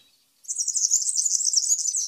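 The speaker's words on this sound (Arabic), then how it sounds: "التغريد غرابة في تغريده وجدت صعوبة في وصفه بحق تغريد مميز" A bisbous (sura) bird sings a high, rapid, buzzy warbling trill, close and clear, starting after a brief silence and running continuously with a fluttering texture to the end.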